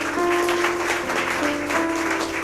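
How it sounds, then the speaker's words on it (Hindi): Congregation applauding in a church in Badlapur, a steady, dense wash of clapping that fills the whole moment, with a faint sustained tone running underneath. "उनके लिए हम जोरदार ताली बजाएंगे।"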